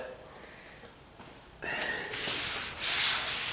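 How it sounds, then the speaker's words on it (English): Sandpaper rubbing across a painted door, quiet at first, then steady louder hand-sanding strokes with a soft, breathy hiss. "I'll sand it."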